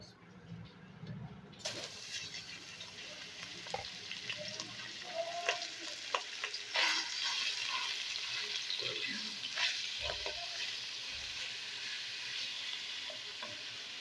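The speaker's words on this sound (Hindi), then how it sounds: "सबसे पहले हमने जो कीमा है उसको थोड़ा सा फ्राई कर लेना है।" Minced meat for shami kabab fries steadily in a pan, a continuous crackling sizzle with occasional stirring scrapes, close and moderately loud, rising after a quieter start.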